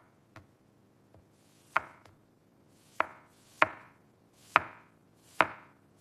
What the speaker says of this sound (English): I cut the zucchini.